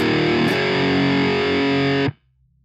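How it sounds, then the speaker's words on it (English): Heavily distorted electric guitar plays a metal chord progression with minor second movement, loud and sustained for about two seconds before cutting off abruptly into near silence. "That progression doesn't make a lot of musical sense, but it still sounds cool, which is often the case with metal."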